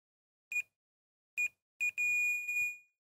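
Multimeter continuity tester checking a GameCube power cable, giving short electronic beeps: two brief isolated beeps, then a pair, then a longer sustained tone with a slight break, clear and alone.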